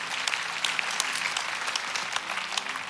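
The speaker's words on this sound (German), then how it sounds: "Danke fürs Applaus" Steady, dense audience applause at a church gathering of ICF Zürich fills the whole stretch, close and even, with no voices over it.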